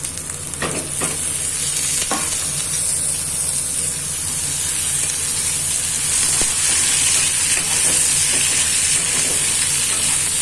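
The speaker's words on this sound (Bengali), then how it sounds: "খানিকটা ভেজে নেব। এবারে আলুগুলো দিয়ে দেবো।" Potatoes fry in hot oil in a pan for a Bengali mourala fish curry, giving a loud, constant close-up sizzle and hiss with occasional clicks of stirring against the pan and no voices.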